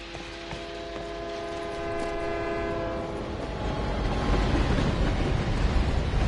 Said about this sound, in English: we need to just get run over by a train